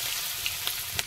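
Chopped onion and dry chili fry in oil in a wok with a brief, steady sizzle and a few small pops, heard up close with no talking.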